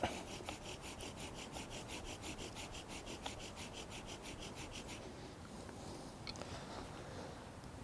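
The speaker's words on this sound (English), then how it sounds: "this bow drill is going to spin this spindle fast enough to get hot" A bow drill rasps back and forth in a quick, regular rhythm for several seconds as the wooden spindle spins, then the strokes stop.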